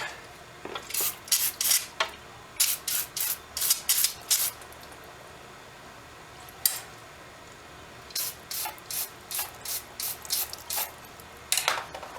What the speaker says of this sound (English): Give it a little shot of brake clean.